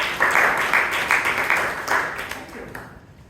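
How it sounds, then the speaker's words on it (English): Applause from the audience at a Bangalore Toastmasters meeting: a dense, steady patter of many hands clapping that holds strong, then gradually thins and fades toward the end. "can we have a huge round of applause for"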